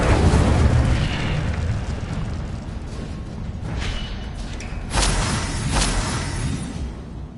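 Fiery spell blast in the Hogwarts Legacy video game, a dense roaring burst of flame and rumble that fades, followed by two more sharp whooshing impacts, with no voices.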